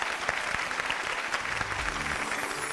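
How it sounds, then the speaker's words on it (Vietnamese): Studio audience applauding on a Vietnamese TV game show, Chiếc nón kỳ diệu, a sustained even burst of many hands clapping, fairly soft and distant, with a brief murmur of voices under it. "Chúng ta hãy cùng dành thêm một tràng vỗ tay nữa"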